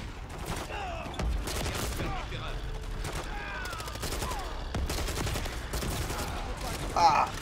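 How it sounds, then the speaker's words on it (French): Rapid submachine gun fire in the video game Modern Warfare 3, repeated bursts of shots alongside other battle effects, with a player talking and laughing over it. "Je tire sur mes potes"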